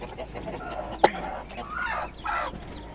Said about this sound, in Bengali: দেশি মুরগি, পিওর দেশি মুরগির বাচ্চা।